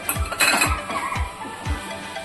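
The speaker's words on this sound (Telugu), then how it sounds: "పంచదార వేస్తున్నాను చూడండి" Sugar goes into a pan of carrot halwa with a spoon clinking against the metal, four regular low knocks about half a second apart over a steady close hiss and rattle, no voices.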